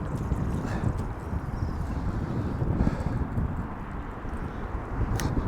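Wind buffets a microphone on a bass fishing boat, a continuous low rumble with gusty swells throughout, close and fairly loud.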